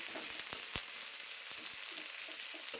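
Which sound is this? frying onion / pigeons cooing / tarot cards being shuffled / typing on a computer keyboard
frying onion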